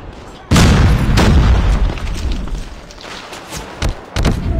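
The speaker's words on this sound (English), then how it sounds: "Enemy airstrike incoming." Deep booming airstrike blasts hit in a Call of Duty–style Hardpoint match, a loud burst opening the run and heavy rumbling thuds and pops following, with faint voices in the mix.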